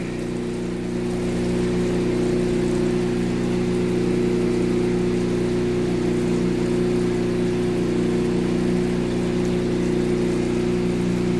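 Higher-grit gem-cutting wheels run loudly and steadily, giving a constant droning hum close by for the whole stretch with no talk over it.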